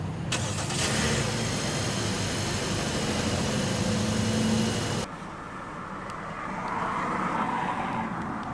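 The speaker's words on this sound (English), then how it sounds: "let's go ahead and start the engine" A 2016 Kia Sorento LX engine cranks and catches with a loud roar, holds a raised rev for several seconds, then drops abruptly to a quieter, steady idle.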